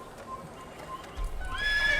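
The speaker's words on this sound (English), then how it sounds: "I ran through a bunch of people on a horse, and then a horse ran away" A horse in the Assassin's Creed video game gives a high whinny, followed by a quick run of hoofbeats and a louder, rumbling gallop toward the end.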